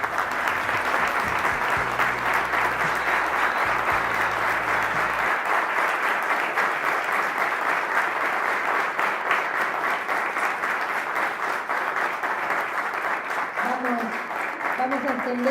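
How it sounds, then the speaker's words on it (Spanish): An audience applauds Malvinas war veterans at a public talk, loud continuous clapping throughout, with a voice briefly audible near the end. "Un fuerte aplauso."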